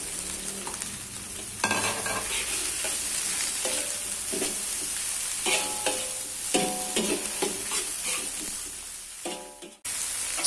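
Chopped mustard greens stir-frying with wilted spices for Medan-style mie balap, a steady close sizzle broken by repeated scraping and clanking of a spatula in the pan, with no voices.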